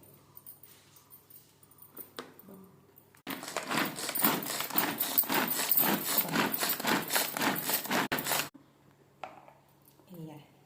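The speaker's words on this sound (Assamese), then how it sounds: "এতিয়া এটা চপাৰত এইখিনি পিঁয়াজ, অকণমান নহৰু, এই নহৰু 3টামান জলকীয়া সোৱাদ অনুসাৰে আৰু এই বিলাহীখিনি দি চপ কৰি দিম" An electric chopper whirs loudly for about five seconds as it blends onion, garlic, chillies and tomatoes, with a pulsing, grinding rhythm, framed by quieter handling sounds before and after.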